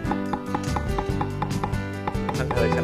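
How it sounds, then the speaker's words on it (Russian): A knife taps quickly and rhythmically against a cutting board, slicing a mushroom into thin strips over soft background music. "Мы надрежем гриб так, примерно на 4 пятых, чтобы получились такие тонкие полоски"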